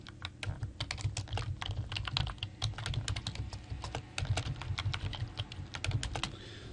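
Fast, steady typing on a computer keyboard, close up, as WordPress user details are entered, with rapid uneven clusters of key clicks and short pauses, no voices.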